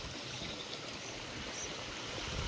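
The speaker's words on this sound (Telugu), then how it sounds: "ఫాల్ వాటర్ అంతా ఇటు సైడ్ లీకేజ్ వాటర్ వస్తుంది కింద గుడి దగ్గరికి" Steady rushing, trickling water from a waterfall leaking down inside a cave toward a temple, flowing continuously, fairly close and even, with no voices.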